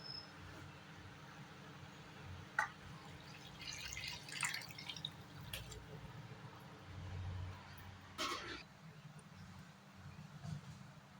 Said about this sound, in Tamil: தண்ணி ஊற்றிக்கும்.